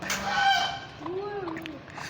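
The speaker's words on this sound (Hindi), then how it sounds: "ये देसी मुर्गी है" A desi hen clucking on a poultry farm, a few short calls with a low rising cluck, fairly faint and close, with a faint voice underneath.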